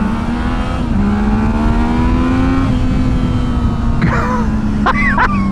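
A Yamaha MT-09 motorcycle accelerates hard in first gear after a clutch dump, its engine note rising steadily and loudly, with whistling or squealing sounds near the end, heard close and continuous.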